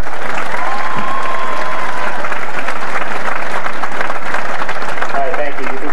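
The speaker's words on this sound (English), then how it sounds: "give him a round of applause" Graduation audience at a high school commencement applauds loudly and steadily, dense clapping filling the hall for several seconds with a few voices and a faint call rising over it.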